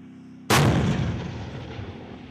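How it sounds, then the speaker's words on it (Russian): A tank cannon fires during a military defensive exercise, one sudden deafening boom followed by a long rumbling decay echoing across open ground, with no voices. "Первыми отстреливаются танкисты."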